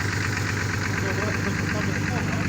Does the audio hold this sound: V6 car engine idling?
yes